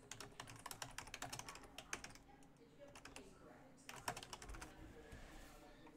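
Rapid clicking keystrokes on a computer keyboard, close and fairly quiet, in irregular bursts with a brief pause midway, no voices.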